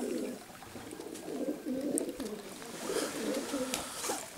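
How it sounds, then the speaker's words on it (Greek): Black pigeons with white tails coo in soft, repeated throaty calls close by, layered over faint background noise. "Ωραία περιστεράκια."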